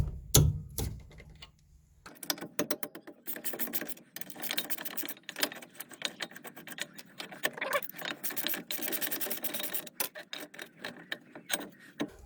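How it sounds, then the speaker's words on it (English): A half-inch ratchet clicks steadily while backing out the 15mm brake caliper carrier bolts on a Ford Mondeo ST220, giving fast, quiet, close ratcheting with a few small metallic knocks. "These are the two 15mm bolts. Got a 1/2 inch ratchet."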